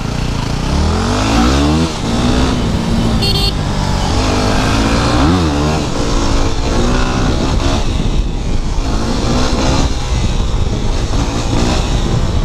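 Car driving past in busy street traffic, a continuous loud engine roar with revving and passing swells that stays steady throughout, with a brief voice in the mix.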